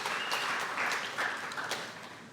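A pageant introduction night audience in Madang applauds the committee chairperson, a dense, steady wash of clapping that holds for a couple of seconds and only slightly tapers at the end.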